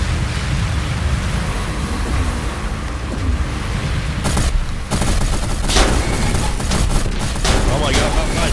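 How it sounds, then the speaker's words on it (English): Continuous rattling gunfire and explosions in the vehicle combat game Gear Up, a dense loud fusillade of machine gun bursts and bomb blasts under a player's excited talk. "My machine gun cannot handle the bombs."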